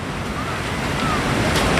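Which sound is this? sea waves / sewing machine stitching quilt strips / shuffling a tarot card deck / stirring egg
sea waves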